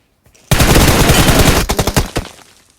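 Rapid automatic gunfire from a video game, a dense loud burst of continuous shots followed by several separate trailing bursts that taper off.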